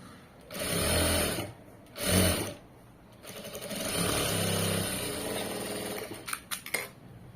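A sewing machine stitches cloth in several separate bursts of quick, even, rhythmic needle clatter. Brief pauses fall between the runs, and a few faint clicks and handling noises follow near the end.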